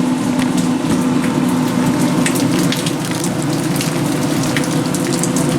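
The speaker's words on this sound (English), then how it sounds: "It's raining outside, if I didn't tell you already." Steady rain patters and splashes on hard surfaces just outside a garage, a dense continuous hiss with scattered louder drips and no voices.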